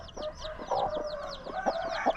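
Mother hens cluck low among a flock of chicks whose rapid high peeping runs continuously over the top, close and busy, with no talking.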